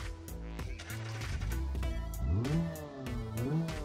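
An LS7 V8 swapped into a 4x4 pickup truck in BeamNG, idling with a low burble and then revving twice, the pitch sweeping up and falling back each time, close and clear with no talk.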